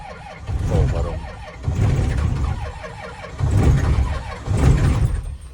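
A high-mileage Cummins 5.9 12-valve diesel cold-starts and runs with a loud, clattering idle, swelling in repeated revving surges from the throttle, with a voice briefly under it.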